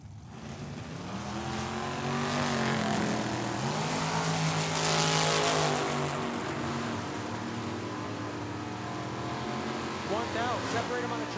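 Drag racing launch at Tucson Dragway, a Camaro and a dragster leaving the line side by side, with a loud sustained engine roar that swells and holds for several seconds, while an announcer talks over it.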